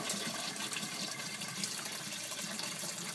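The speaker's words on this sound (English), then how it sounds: "There it goes, now it's draining." Water rushing steadily as it drains out of a small aquaponics tank into the sump tank below, a continuous close, gurgling wash with no pauses.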